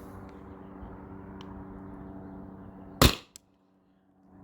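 A single sharp pneumatic pop from a Byrna SD launcher firing a Byrna Kinetic round, close and loud over a steady low hum, followed by a brief clatter and then near silence.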